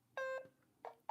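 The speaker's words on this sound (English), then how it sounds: "I'm gonna start the timer because I like some sound." A timer starting gives three short electronic beeps: a clear tone, a pause, then two quicker beeps with no talk over them.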